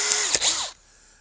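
A power drill with a 120-thousandths bit spins up briefly at close range during a repair of a Mauser 71/84 barrel band, a high whine lasting under a second that cuts off abruptly and leaves a faint ringing tail.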